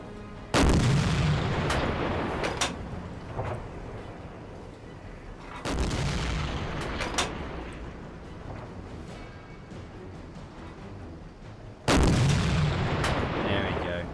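A submarine deck gun firing at a ship in the Silent Hunter 4 naval game: three heavy booming shots spaced several seconds apart, each followed by a long rumbling decay.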